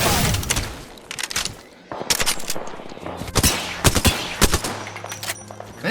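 Video game gunfire crackles in rapid bursts of automatic fire and scattered single shots, loud and sharp throughout, with brief pauses between volleys.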